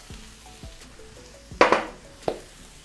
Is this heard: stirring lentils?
yes